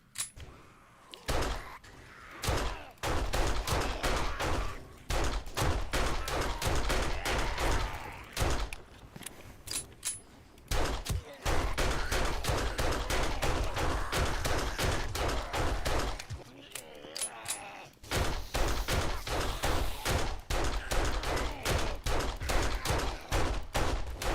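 Gunfire rattles across a Halo Reach custom map in long, rapid bursts of sharp shots, broken by a few brief pauses and continuing almost without stopping.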